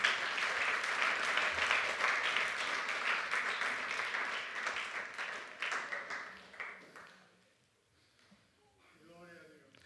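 Church congregation applauding together during a sermon, a dense sustained wash of clapping that fades out after several seconds as a voice begins speaking.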